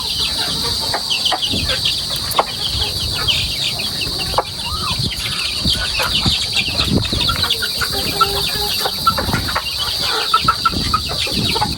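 Chickens and chicks cluck and peep around a Filipino family yard, a busy scatter of soft calls and scratches at moderate distance with a steady high background drone.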